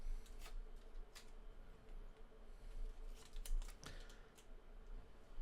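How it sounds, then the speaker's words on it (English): Small adhesive sticker peeled off the body of an Insta360 Link 2C Pro 4K webcam, close and quiet, with soft crackling tears and scattered sharp clicks over a low room hum, no talking. "there's a little sticker on here we're going to take off"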